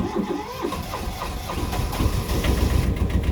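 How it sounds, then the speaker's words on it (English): The small diesel inboard of a Ranger 33 sailboat cranks over and settles into a steady idle, a continuous low rumble with rhythmic knocking that grows slightly louder toward the end. "The engine is running."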